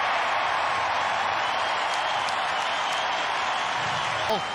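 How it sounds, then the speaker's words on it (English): Stadium crowd at an AFL match, Geelong against West Coast, roaring after Ablett kicks a goal: a steady, loud, broad cheer that holds for the whole stretch without a break. "Now Ablett can kick a goal, and the crowd erupts."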